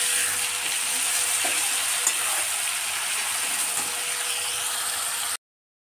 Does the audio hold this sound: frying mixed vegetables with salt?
yes